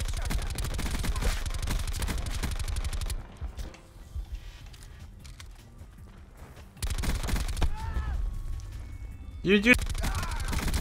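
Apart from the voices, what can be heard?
gunfire in the video game Black Ops 4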